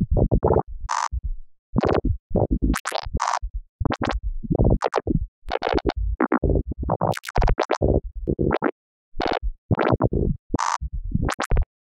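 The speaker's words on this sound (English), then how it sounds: "it's going to get like a tape slow effect punching in here and there" Choppy granular synth grains, made for psytrance, stutter in short bursts, some dropping in pitch like a tape slowing to a stop, punching in irregularly without any talking.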